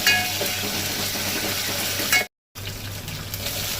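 Steady close sizzle of ginger garlic paste frying in hot oil for a tempering, a dense continuous hiss that cuts out abruptly for a moment before resuming.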